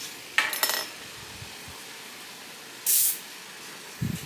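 A few clinks of a handled bottle, then one short hissing burst of room mist spray, followed by a soft thud.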